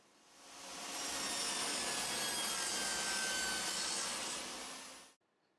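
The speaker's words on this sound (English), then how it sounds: "The convex bottom can be roughed out on the table saw with the blade tilted slightly." Table saw with its blade tilted slightly, roughing out the convex wooden bottom of a small bombé-style box: a steady, loud whirring cut that swells in, holds for about four seconds, then stops abruptly.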